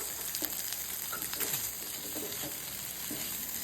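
Onions fry in a pan for a meat-free tapa, a constant dense sizzle with crackling pops, close and even, with no talking.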